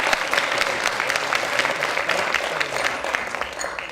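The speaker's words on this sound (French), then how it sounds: "On peut les applaudir, oui, absolument," An evening awards ceremony audience claps, a full continuous round of applause from a sizeable crowd, loud and sustained without pause.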